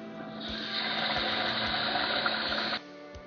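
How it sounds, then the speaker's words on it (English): Rinse water drains away from washed sushi rice in a steady, broad pouring rush that lasts about two seconds and then stops abruptly, close and fairly loud, with no talking. "you're going to drain it, and do this a few times until you can see the rice through the water"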